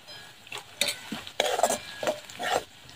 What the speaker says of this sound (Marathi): दोन मिनटं परत तळून घेते आता